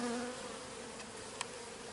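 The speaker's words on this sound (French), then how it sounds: "Et là, les abeilles elles se sont installées dans la poubelle." Honeybees settled inside a trash bin give off a soft, continuous buzzing hum, fairly faint and close, with one brief tick partway through.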